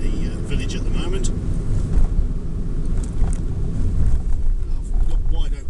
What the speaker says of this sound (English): I've got wide open throttle at the minute just to get speed up, also to help the engine get up to temperature.